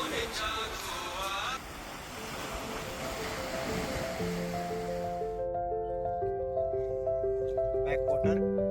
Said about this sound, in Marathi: आज खवणे आणि सभोवतालचा समुद्र किनारा म्हणजे कोकणातला निसर्ग.